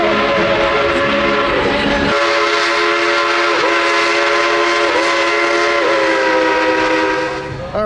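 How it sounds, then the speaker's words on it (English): A loud train horn blasts continuously, close by, as a train rumbles past at Dollywood. The tone shifts slightly before fading at the end. "we'll wait for that train."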